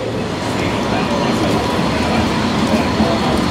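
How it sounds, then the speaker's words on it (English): A tram rolls past on a Sydney street, heading out toward Kingsford, as a steady mid-level rumble blended with the surrounding city noise. "There's the tram heading out to South's Juniors at Kingsford."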